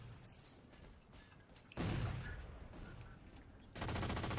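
Rapid automatic gunfire in a video game, a quiet stretch, then a loud sustained burst of shots and a second burst starting near the end.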